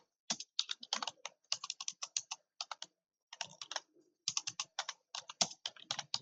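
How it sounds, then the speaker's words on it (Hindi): Close, crisp keystrokes on a computer keyboard during beginner typing practice come in quick bursts with short pauses between runs, and no voices are heard. "इस तरह से आप मोबाइल पर भी टाइपिंग कर सकते हैं"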